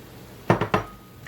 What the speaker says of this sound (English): I'm going to add my yellow squash and my green zucchini.